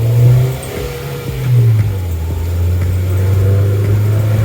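A track car's engine drones steadily on a test drive after a new wheel alignment, loud and close from inside, with a slight rise and fall in revs.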